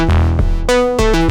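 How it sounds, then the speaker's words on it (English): A low-pass gate on a modular synthesizer shapes a short run of bright, harmonically rich tones, each note opening with a pluck and softening as it fades, with no talking. "That's the sound of a low-pass gate."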